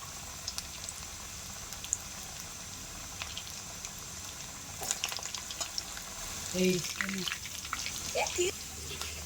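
Bonda batter balls deep-frying in hot oil, a soft steady bubbling sizzle under a voice, with a few louder splutters near the end.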